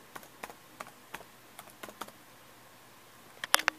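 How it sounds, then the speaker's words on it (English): Light, quick computer keyboard taps in an irregular rhythm, close and quiet, ending with a couple of louder key presses. "I'm going to type in a search"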